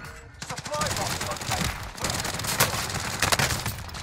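Rapid gunfire from an SMG in Call of Duty on Rebirth Island, loud, dense bursts layered with other game battle noise and impacts across the whole stretch.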